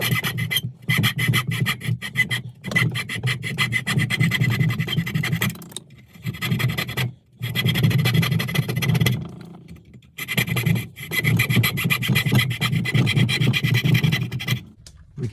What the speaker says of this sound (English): back to that coping saw, remembering that I want to take these parts out